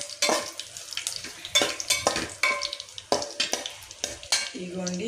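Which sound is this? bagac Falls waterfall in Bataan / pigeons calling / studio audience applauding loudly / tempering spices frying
tempering spices frying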